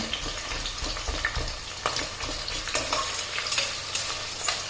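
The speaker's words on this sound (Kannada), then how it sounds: "ಚೆನ್ನಾಗಿ ಫ್ರೈ ಆಗಬೇಕು ಚೆನ್ನಾಗಿ ಫ್ರೈ ಆಗಲಿ" Onions sizzling in oil in a pan for mushroom biryani, a steady close fry with repeated scraping and clattering strokes as they are stirred.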